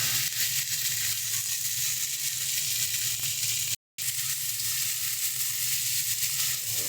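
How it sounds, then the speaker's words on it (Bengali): A spice paste of green chili, crushed garlic and cumin powder frying in a pan for a soybean curry, a loud steady sizzle with faint stirring and a brief silent gap midway. "সব কিছু দিয়ে ভালো করে মশলাটাকে কষিয়ে নিতে হবে।"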